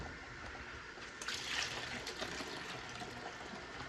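Juice pouring from a pricey juicer, a faint thin trickle of liquid running steadily, briefly swelling then settling.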